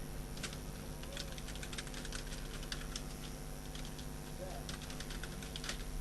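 Typing on a computer keyboard while writing in an MS Word document, a quick run of light key clicks in bursts with pauses, faint background noise beneath.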